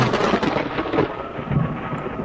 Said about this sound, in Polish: Ta burza jest realistyczna.